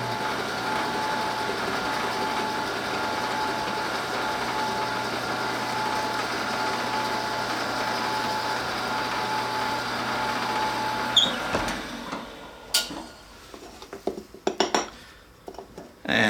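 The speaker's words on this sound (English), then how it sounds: "we're just going to drill this hole until we reach the depth stop" A steady motor whine of a drill boring a center hole into wood for a wooden kazoo runs continuously for about eleven seconds until the depth stop, followed by a few clunks and light knocks.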